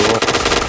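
Rapid automatic gunfire in a shooting video game, loud and continuous with dense rhythmic bursts throughout the short moment.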